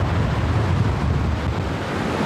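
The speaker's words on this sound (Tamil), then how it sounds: "கடல் பயங்கர சீற்றமாக இருக்குது" Rough sea crashes onto Chinna Neelangarai Beach during Cyclone Fengal in a loud, continuous roar of surf, with heavy wind buffeting the microphone and no talk.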